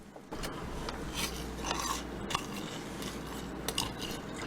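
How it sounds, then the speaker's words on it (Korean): Close, crisp crunching and chewing of crunchy fried glutinous-rice cheese balls, with a few sharper crackles scattered across the steady bites. "소리 들려줄까요? 바삭 치즈볼 ASMR?"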